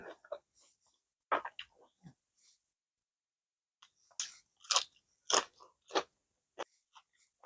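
Close chewing of fried homemade chicken meatballs, a few crisp crunches early, then a short pause before a denser burst of crunchy bites. Quiet and intimate, with no talking.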